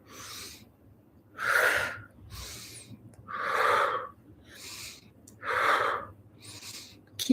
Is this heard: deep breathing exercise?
yes